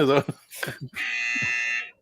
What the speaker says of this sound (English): let's hear your buzzer